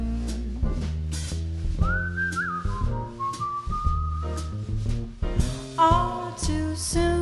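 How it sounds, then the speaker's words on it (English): Someone whistles a short melodic tune in a jazz song, with the whistled line rising over a live band accompaniment. "I'd whistle a little tune."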